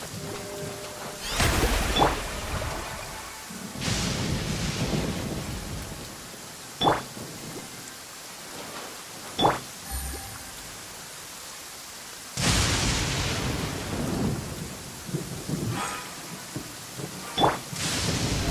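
Thunderstorm in the video game Genshin Impact: steady rain hiss with several loud, rolling thunder crashes and sharp cracks spread across the stretch, heard alone without voices.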